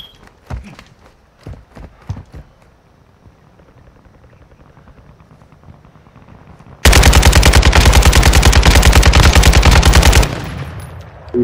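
Gunfire in Call of Duty Warzone, a few scattered sharp shots and clicks, then a loud sustained rapid automatic burst lasting about three and a half seconds before cutting off.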